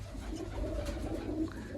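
Soft, low cooing from a pigeon, faint and close, over a quiet background hum with no voices.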